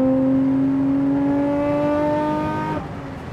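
A Nissan R34 GT-R engine revs hard with a rising tonal howl that climbs steadily for nearly three seconds, loud and close, then cuts off abruptly.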